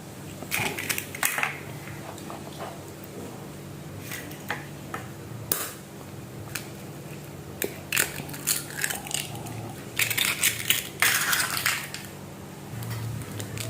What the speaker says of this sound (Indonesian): Kemudian kita pecahkan 2 butir telur tadi ya.